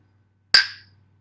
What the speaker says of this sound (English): And the gong of wood.